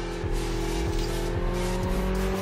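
A motorcycle in the Battlefield video game pulls away with a steady droning engine tone and rhythmic gear-like pulses, loud and close, alongside tire squeal, with no talk over it.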